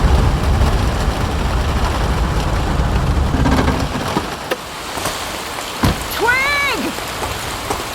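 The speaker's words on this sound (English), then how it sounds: "All I could see was a wall of rain." Heavy rain at night pours as a dense, steady hiss through the first half and then thins out, with scattered sharp knocks and a brief high warbling tone near the end.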